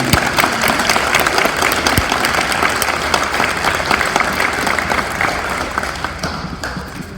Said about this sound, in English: we give them a round of applause, please